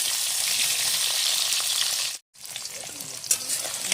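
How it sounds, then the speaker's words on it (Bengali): Potato pieces frying in hot oil for a rohu fish curry, giving a loud, dense, continuous sizzle close up that cuts out briefly for a moment before resuming, with a light clatter of stirring. "আলুটা ভেজে নিই"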